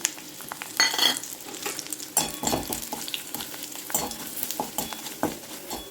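Dried red chillies drop into hot oil with popped mustard seeds and lentils for a Chettinad chutney, a sharp sizzle and crackle with spoon scrapes and bursts of spatter, fairly close and moderately loud, no voice.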